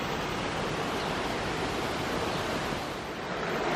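A waterfall and river in the New Zealand mountains roar as a steady, dense rush of water, loud and constant with no pauses or voices.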